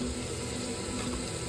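Masala paste for mushroom butter masala sizzles in a pan as a splash of water from rinsing the spice bowl is added, giving a steady, close, broadband frying hiss with no talking.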